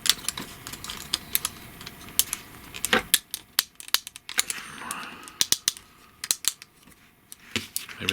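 A plastic Transformers figure, the Fanstoys Outrider, is folded up into backpack mode, giving sharp clicks and snaps of plastic parts, irregular and close, with quiet handling between them.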